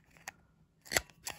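A paper label cutter punch slices through paper in three crisp, short snips, one faint and two louder and closer, with silence between them.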